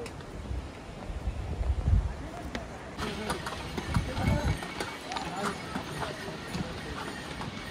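Horses walk along a steep mountain path, their hooves clopping irregularly against wind and outdoor noise, while people talk nearby.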